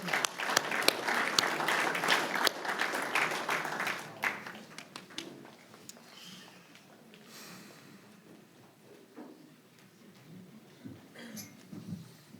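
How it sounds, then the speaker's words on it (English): A small audience claps steadily for several seconds, then the applause thins out into scattered claps and murmuring voices. "Let's give them a round of applause."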